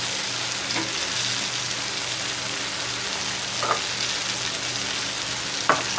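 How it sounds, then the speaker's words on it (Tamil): Green peanuts and vegetables sauté in hot oil for a village-style tamarind curry, giving a loud, continuous sizzle close at hand, with two or three brief scrapes of a spoon against the pan. "புளியை கரைச்சதுக்கப்புறம் இந்த காயை வந்து நல்லா வதங்க விடுங்க"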